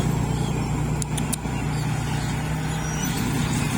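A classic older Kaset Phatthana rice combine harvester idles with a steady low engine drone during rice harvesting in Surin, Thailand, holding a constant hum with a few brief high clicks near the start and no talk.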